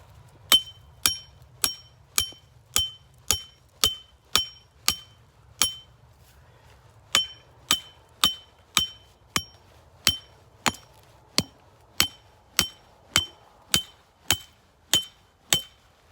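Regular metallic hammer strikes drive earth anchors into hard, frozen ground while snares are set in snow. About two dozen sharp ringing clinks come at a steady pace, close and loud, with one short pause partway through.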